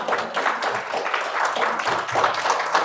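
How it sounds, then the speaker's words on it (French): Audience applause welcoming a speaker at a conference on Quebec saints, steady crowd clapping with a fairly close, even texture throughout. "vous pouvez l'applaudir"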